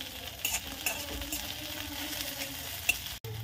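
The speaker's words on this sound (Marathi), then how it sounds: "त्याच्यामुळे छान असे सगळं परतून घ्यायचं आहे तेलामध्ये" Sesame seeds and raw green tomato sautéing in oil for a tomato chutney, giving a steady soft sizzle with light stirring scrapes and a brief clink near the end, close and alone.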